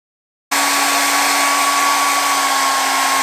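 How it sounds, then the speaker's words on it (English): A hair dryer switches on after a brief silence and blows steadily and loudly with a constant whine. "Now I'm going to take my dryer and dry it"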